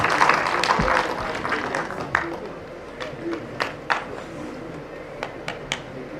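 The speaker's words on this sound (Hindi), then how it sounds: "तालियों से इनका आप अपने प्रेसिडेंट का खैर मकदम करें।" An audience at a traffic police awareness event in Kargil, Ladakh, claps to welcome a truck union president. The applause starts fairly loud, then thins into scattered claps.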